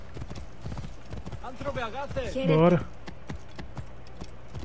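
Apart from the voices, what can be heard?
horse galloping in the video game Assassin's Creed Origins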